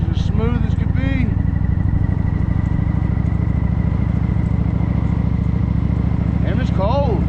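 A motorcycle engine idles and runs smoothly in third gear on a cold day, a steady low rumble held throughout under wind noise, with a voice speaking briefly at the start and end.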